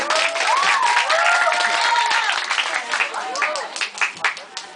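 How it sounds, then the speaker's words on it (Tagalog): A school audience at a Balagtasan debate claps to welcome a speaker, steady applause mixed with voices and cheering that thins into scattered claps. "Sa inyong palakpak, siya'y salubungin"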